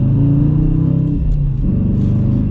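A 2023 Dodge Challenger R/T with a manual gearbox revs loudly and close by during a rev-matched shift, a deep rumbling engine note that dips briefly mid-shift before swelling again.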